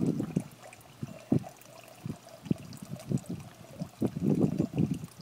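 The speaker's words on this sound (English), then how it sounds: "Hot water coming out" Hot water from a DIY solar pool heater splashes and gurgles out in uneven bursts, pouring and sputtering irregularly from a pipe, close and moderately loud.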